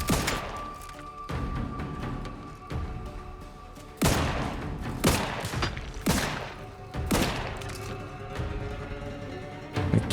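Gunfire from the video game Outer Worlds 2: bursts of loud shots and heavy booms strike repeatedly across the span, with sharp blasts around the middle and a steady hum of game ambience between them.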